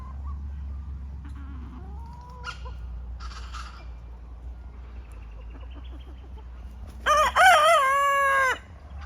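A rooster crows on a farm, one loud drawn-out cock-a-doodle-doo near the end over a low steady hum, with soft faint chirps and clucks earlier.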